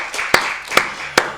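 Three sharp, separate claps ring out from a church congregation at roughly even intervals over a soft, hollow room background.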